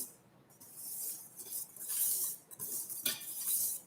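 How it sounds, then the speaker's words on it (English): A spoon gently folds cocoa powder into chocolate cake batter in a mixing bowl, giving soft scraping and light clinks against the bowl in an irregular rhythm. "Just fold that in gently."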